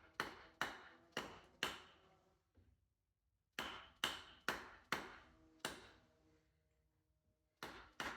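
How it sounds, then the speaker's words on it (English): A mallet strikes a big socket to seat a part in a truck rear shock during a rebuild, in two bursts of sharp, evenly spaced metallic taps, about a dozen in all, loud and close, with no talking. "get my mallet and a big socket"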